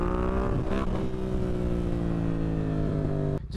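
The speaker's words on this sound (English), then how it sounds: "This is a 2016 Yamaha FZ07." A 2016 Yamaha FZ07 motorcycle engine runs loud and close, holding a steady droning rev with a slight rise and dip before cutting off abruptly at the end.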